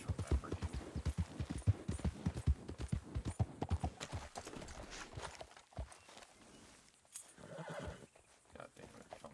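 Horse hooves clip-clopping in a steady walking rhythm in Red Dead Redemption 2, close and clear, with a horse whinnying and a voice speaking over the later part.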